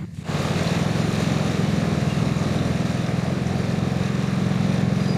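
A motorcycle wading through deep flood water in low-lying Bulakan, its engine a loud, steady low drone close by, starting abruptly and running evenly throughout with water churning underneath and no voices.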